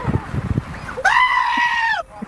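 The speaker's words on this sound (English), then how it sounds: "both of these goats make libs sound like literal goats" A goat bleating sound effect: one long, loud, wavering bleat lasting about a second, preceded by brief speech and mouth noises.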